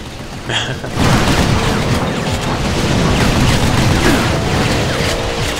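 Missiles exploding in the video game Vanquish: a sharp onset, then a loud, sustained rumbling roar of blasts that carries on for several seconds.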